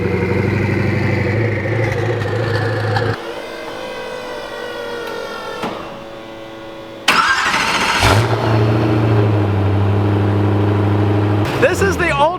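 Koenigsegg Agera R hypercar engine, loud and close, moving between a steady idle drone, a sharp climbing rev and a sudden roaring burst, with a voice talking over parts of it.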